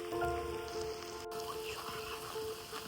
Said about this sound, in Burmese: မိုးရွာလာ